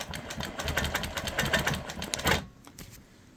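A quilting machine in regulated cruise mode, set to 12 stitches per inch at about 400 idle speed, stitching around raw-edge appliqué on clothing. It gives a steady fast mechanical whir and rattle that stops abruptly near the end.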